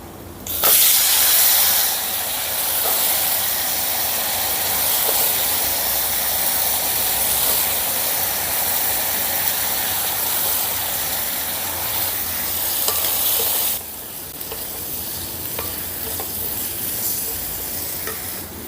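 Cut brinjal pieces fry in a pan, a loud, continuous sizzle that surges when they go in, then settles to a steady hiss and drops in level near the end.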